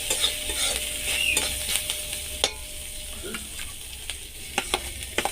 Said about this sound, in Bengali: এরপর কাঁচা লঙ্কা কুচিগুলো দিয়ে দিলাম। এরপর এটাকে কিছুক্ষণ নেড়ে নিলাম।